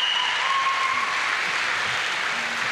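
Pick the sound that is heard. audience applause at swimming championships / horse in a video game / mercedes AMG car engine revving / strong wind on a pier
audience applause at swimming championships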